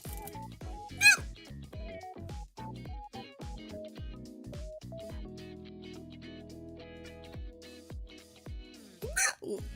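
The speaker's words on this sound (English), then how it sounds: "I can't stop hiccuping!" A woman hiccups repeatedly, sharp close vocal jerks at irregular intervals, a few landing on top of her speech while game music plays in the background.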